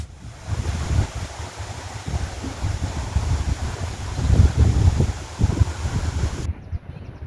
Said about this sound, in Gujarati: અહીંયા જે પવન છે એ તમે સાંભળવાનો અવાજ